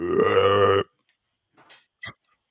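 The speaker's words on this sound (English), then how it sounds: "I didn't want to make that burp. Even though it was a very, very silent burp, on the microphone it would have been." One loud, drawn-out burp is let out close into a microphone, followed by near silence and a couple of faint, brief rustles.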